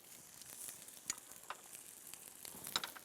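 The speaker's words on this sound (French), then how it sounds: "Pendant que les concombres sont dans la poêle" Cucumbers roast in a frying pan with a soft, steady sizzle and a few small pops and crackles. The sound is faint and close, with no talking.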